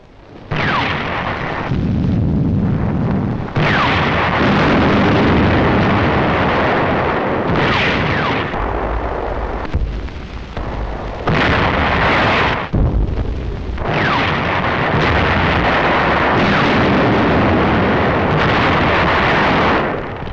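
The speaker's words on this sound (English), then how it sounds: "November the 25th, the first real tank clash." Heavy artillery fire and explosions from a WWII tank battle in Tunisia, a sustained barrage of booming blasts and roaring detonations with brief gaps, loud and rumbling throughout, old film soundtrack.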